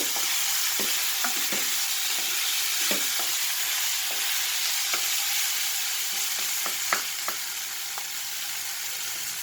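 Flattened rice (chira) for chirer polao frying in a pan with beans, crackling steadily in a continuous sizzle while a spoon stirs and scrapes in scattered clicks throughout, with no talking.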